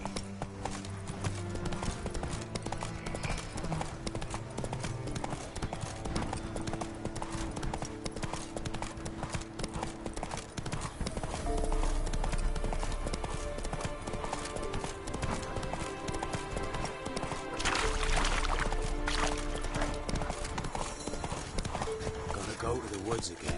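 Roach, a horse in The Witcher 3 video game, gallops with steady, rhythmic hoof clip-clops under a music score and voices, the hoofbeats continuing throughout and briefly surging louder in places.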